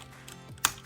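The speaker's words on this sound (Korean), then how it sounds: "찰칵 소리가 나면서 바로 끼워지게 되고요." A plastic arm part of a Bandai DX Chogokin VF-1J Armored Valkyrie toy snaps into place with one sharp, close click after quiet handling noise.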